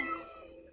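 Cat in the video game Gone Home gives a single short, quiet meow.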